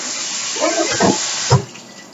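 Tap water runs over rice being rinsed in a kitchen sink, a short steady splashing hiss while someone talks over it.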